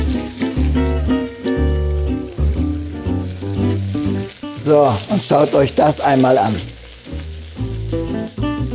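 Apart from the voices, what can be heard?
zander fish skin-side frying in nonstick pan with little oil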